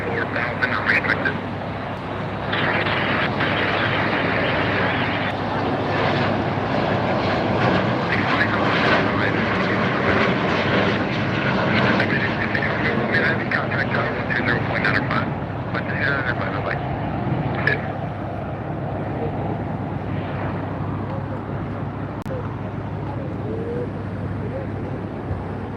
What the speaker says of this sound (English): We have Hawaiian Airlines taxiing up now.